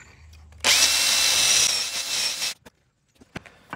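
A power drill bores into wooden flooring boards for a dining table: a loud, steady whine for about two seconds that then cuts off, followed by a few sharp knocks.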